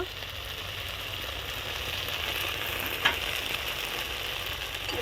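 Spice paste with turmeric frying for a tangra fish and orange curry, a steady sizzle that holds even throughout with one faint sharp tick near the middle, moderately loud and without talk.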